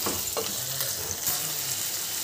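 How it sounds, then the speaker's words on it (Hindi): Chicken slices, about 300 grams, frying on high flame for spaghetti, giving a steady close sizzle with a few soft stirring scrapes and no voices. "इसे डालने के बाद ही हम तुरंत इसे अच्छे से फ्राई कर लेंगे हाई फ्लेम पर"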